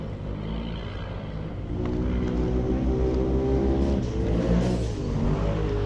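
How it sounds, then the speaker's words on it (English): A UTV race car engine roars out of a wooded off-road section at a dirt track race, a loud steady drone that swells and revs harder midway, close and continuous with no talk. "I hear another car coming out of the Steel at Wood section."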